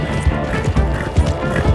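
A horse gallops in the video game Red Dead Redemption 2, with quick, heavy hoofbeats in a steady rhythm, loud and close, over a busy game mix with other noise.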